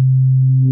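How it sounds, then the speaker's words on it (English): A steady, pure synth tone from the Phase Plant synthesizer with phase-based FM modulation, held loud and unchanging for under a second with a faint extra overtone creeping in near the end. "if we modulate the phase with other oscillator, it's going to give us FM modulation"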